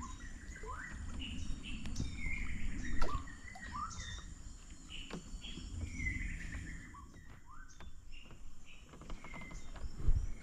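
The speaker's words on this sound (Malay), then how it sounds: "Sedap bunyi burung murai batu." A white-rumped shama sings outdoors at a fishing spot, with clear whistled phrases and quick chirps heard at a moderate distance over a steady background hiss and low rumble.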